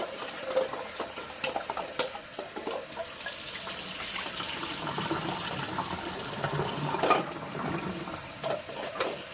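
Cold tap water runs and splashes over boiled eggs in a pot or sink, a steady close-up flow with small knocks and clinks, with no talking.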